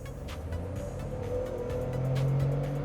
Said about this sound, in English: if you can hear the engine noise right now